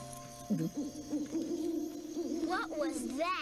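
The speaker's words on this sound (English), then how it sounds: "That's a bird called an owl." A long, low owl hoot wavers steadily over quiet background, followed at the end by a brief spoken question.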